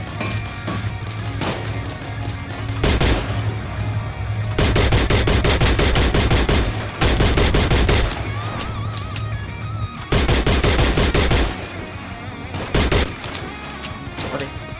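Rapid bursts of automatic gunfire in the battle royale game Free Fire, loud and close, broken into several sustained volleys with short gaps, over steady game background noise.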